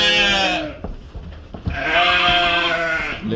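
Dorper sheep bleat loudly at close range in a maternity pen on a dairy farm, with one long wavering call, a few short knocks and shuffles, then a second sustained bleat.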